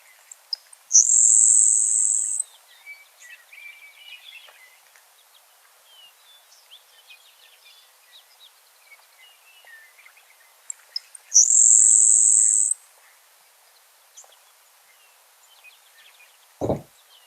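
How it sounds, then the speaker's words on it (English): Two thin, high insect-like buzzy trills of a grasshopper sparrow, each lasting over a second and spaced well apart, over faint distant bird chirps and a soft knock. "So if you haven't gotten a grasshopper sparrow, they sound like a grasshopper."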